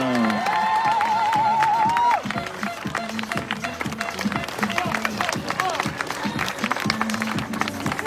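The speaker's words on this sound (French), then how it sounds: "On va lui faire un tonnerre d'applaudissements." At the podium ceremony of the 45th Lac d'Annecy Marathon, an outdoor crowd claps and cheers for a finisher. A wavering tone comes first, then dense, steady applause runs alongside an amplified voice.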